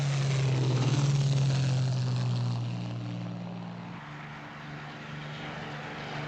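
A Supermarine Spitfire fighter plane drones with a deep, steady propeller-engine hum that is loud at first and then fades a little as it passes, with no voices over it.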